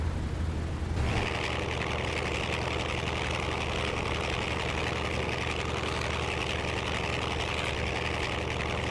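A warbird aircraft engine in Microsoft Flight Simulator drones loud and steady after a brief quieter moment at the start, a dense, continuous rumble holding at one level with no talk over it.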